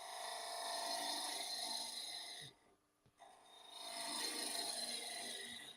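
A cup tool cutting wood on a woodturning lathe, a loud continuous rasping shear that stops briefly, gives a couple of knocks, then resumes, close and without talk.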